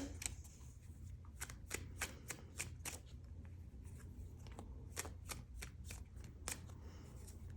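Tarot cards are shuffled and handled in a quiet room, a series of crisp, close riffling bursts and flicks coming in quick irregular bunches, with no talk.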